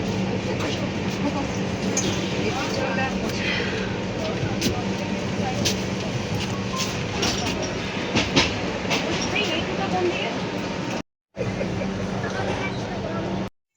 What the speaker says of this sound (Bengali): ফালাকনামা এক্সপ্রেস কিন্তু হাওড়া ছাড়ার পর থেকেই ধীর গতিতে চলছে